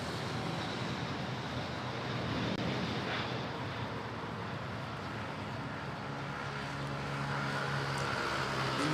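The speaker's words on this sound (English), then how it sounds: "Dreamliner gonna give us a nice dreamy takeoff." Boeing Dreamliner taking off at Manila Airport, a broad steady jet engine roar at medium distance, rising slightly and then holding, with no talking.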